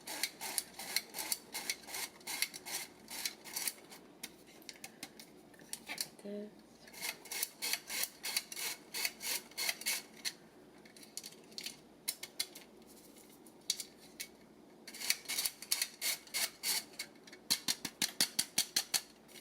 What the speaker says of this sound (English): I'm going to use a sifter.